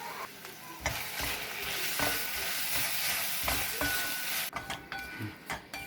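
Cooked tomatoes and masala with turmeric and red chili sizzling in a pan as a spoon stirs and scrapes through them, a steady frying hiss broken by repeated scraping strokes, close and alone.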